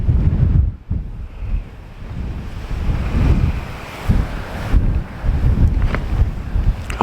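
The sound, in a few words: wind blowing on Bennan Head cliff tops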